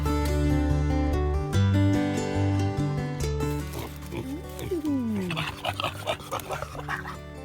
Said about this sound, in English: super excited about the pigs.